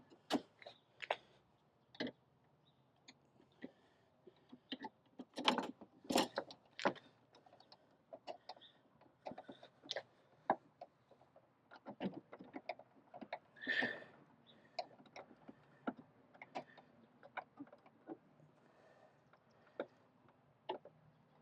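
A lock nut being worked onto a Ford Bronco tailgate range limiter, a loose series of small metallic ticks and clicks spread irregularly over about twenty seconds, close and fairly quiet against a hushed background.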